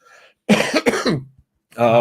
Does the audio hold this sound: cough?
yes